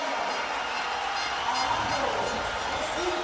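A dense crowd roars steadily at the 2014 UCI Track Cycling World Championships during a sprint heat, a broad continuous wash of noise under a commentator's voice.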